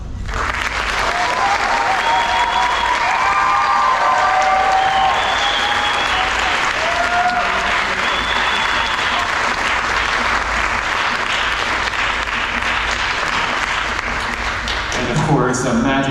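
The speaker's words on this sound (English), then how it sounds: "So we would like to congratulate you, our great conductor, for the past 8 years with a great round of applause." Loud, sustained applause from a summer band camp concert audience for their conductor, a dense wash of many hands clapping nonstop, with cheers and voices mixed in.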